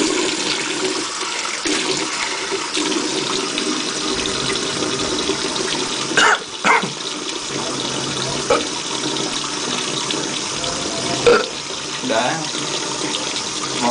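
Tap water runs steadily and fairly loudly for the whole stretch, a continuous rushing gush with a few faint knocks and brief changes in flow, and no clear talk over it.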